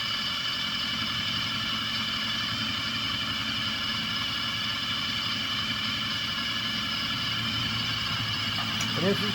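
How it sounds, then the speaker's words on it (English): Continuous steady mechanical whirring drone of a drill driving a hydrostatic transmission under load, unchanging throughout, close and fairly loud. "you'll hear the drill put a little bit of a load on it"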